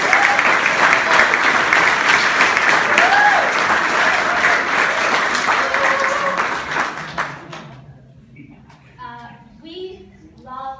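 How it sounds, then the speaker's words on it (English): An audience at a volleyball banquet gives loud, dense applause that holds for about seven seconds and then quickly dies away, after which a voice begins speaking. "let's just take a moment and give a round of applause to Monique"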